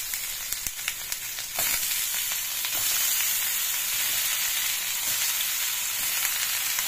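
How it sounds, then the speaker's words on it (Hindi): Stuffed bitter gourd (karela) sizzles as it goes into hot oil in a pan, a few light clatters of placement giving way to a steady, fairly loud frying hiss that holds throughout. "यहाँ पे पैन में मैंने ऑयल डाल दिया है। अब मैं इनको सेकने के लिए इस तरीके से डाल दूंगी।"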